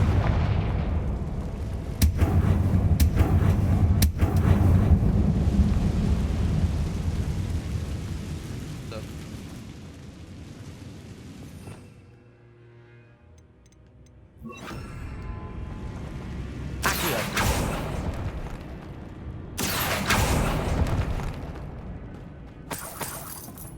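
Confringo explosive spell in Hogwarts Legacy: repeated sharp blasts and booming impacts over a rumbling, rain-like wash of game sound. The din dips midway, then resumes with further loud bursts.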